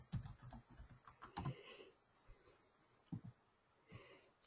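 Computer keyboard typing to log in: quiet, close clicks in short irregular bursts, a quick cluster at first, then scattered single taps with pauses, no talking.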